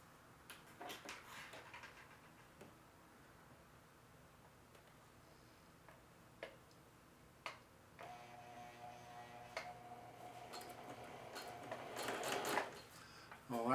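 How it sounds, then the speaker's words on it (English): A sewing machine edge stitching along a jeans front pocket, a quiet, steady mechanical whir with scattered clicks and knocks, growing busier and louder toward the end, with no clear talking. "And I'm going to edge stitch right along there."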